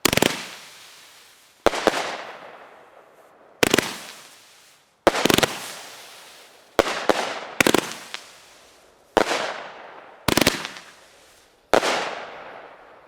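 Consumer fireworks mines and cakes fired in a demonstration show, a run of about nine sharp loud bursts at uneven intervals, each followed by a crackling, hissing tail that fades before the next.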